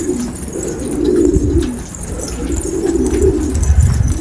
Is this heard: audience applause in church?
no